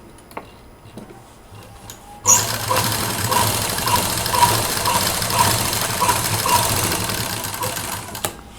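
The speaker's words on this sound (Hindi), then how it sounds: "मैंने एक ही साइड से अभी सिला है।" A sewing machine stitches a scrap quilted fabric hand purse, a steady close, loud mechanical whir with fast rhythmic ticking that starts abruptly after a quiet moment and runs without pause.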